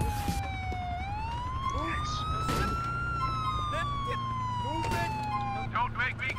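A wailing police car siren in the video game Grand Theft Auto IV, its tone sweeping slowly up and down over engine noise, with short yelps and other game sounds layered in.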